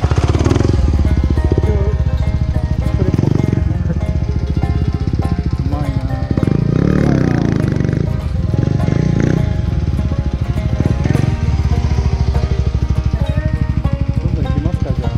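A motorcycle doing accel turns on the Doi Chuo forest trail, its engine revving and surging steadily throughout at close range, with some talk over it.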